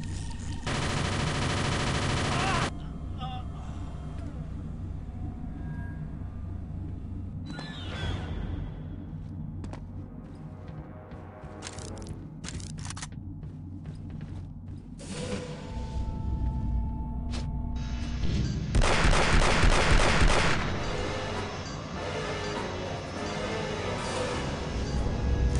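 Sentry gun in Aliens vs Predator 2 firing long, dense automatic bursts, loud and close, with pauses between volleys and a sustained burst near the end, over steady game background noise.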